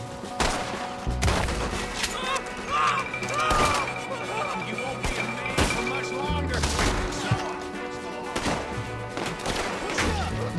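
Gunfire in the Red Dead Redemption 2 video game: a series of sharp, loud shots at irregular intervals over a backing song with singing, some shots close together like a volley.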